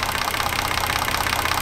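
A 2003 Opel Signum 3.2 V6 running at idle on a gas (LPG) system, a steady, even mechanical hum with a faint ticking texture, close by and constant throughout with no talk.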